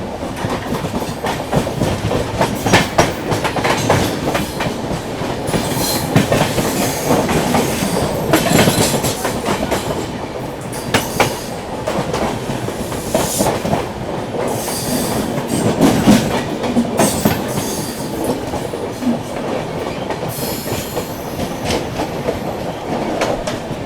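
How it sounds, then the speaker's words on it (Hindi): The 14117 Prayagraj–Bhiwani Kalindi Express passes on the opposite track, heard from aboard a moving train: loud, close rumbling with rhythmic clickety-clack wheel beats and occasional squeals throughout, no talking. "सामने से आती 14117 प्रयागराज भिवानी कालिंदी एक्सप्रेस"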